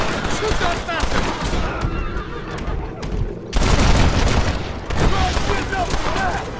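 Chaotic gunfight in Red Dead Redemption, loud close rifle and pistol shots in rapid bursts, a brief lull, then a heavier volley resuming, with horse sounds and shouting voices mixed in.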